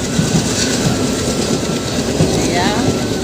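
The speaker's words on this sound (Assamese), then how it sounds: "এতিয়া আমি ট্ৰেইনত উঠিলোঁ আৰু এতিয়া গৈ আছোঁ" A passenger train runs on rails, heard from inside a carriage as a loud, steady rumble with rhythmic wheel clatter and a brief metallic squeal, while people talk over it.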